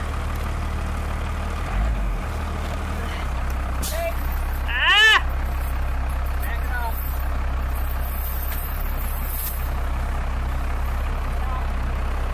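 A one-wheel-drive Dodge Cummins D250 truck put in drive on winter tire chains gives a steady low diesel rumble, with a brief rising squeal near the middle and faint muffled voices nearby.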